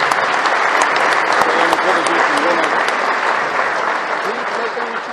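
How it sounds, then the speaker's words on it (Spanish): Loud crowd applause at a transport-sector press conference, dense clapping throughout with voices and some cheering mixed in under it. "Un aplauso para ellos muy fuerte."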